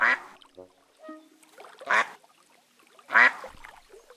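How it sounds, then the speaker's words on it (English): Ducks in the video game Tiny Glade quack in three distinct bursts spread across a quiet ambience, with soft chimes and small game sounds between the calls. "Ducks! Here are the ducks."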